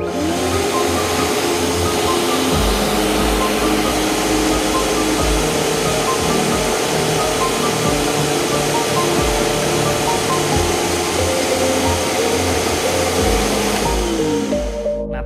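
A Nilfisk Buddy II 12L vacuum cleaner runs continuously, a loud, steady motor roar with hissing airflow that holds level for the whole stretch and slightly softens at the very end.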